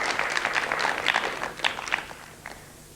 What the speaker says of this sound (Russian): Аплодисменты публики